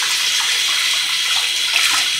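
Water from a tap pours steadily into a filling bathtub, a close and continuous rushing splash with no voices.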